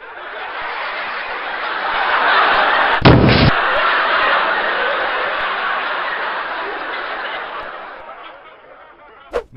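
A sudden explosion in the video game Spider-Man: Web of Shadows, a sharp loud burst about three seconds in, set against a dense, steady roar of game noise, with a second brief pop near the end.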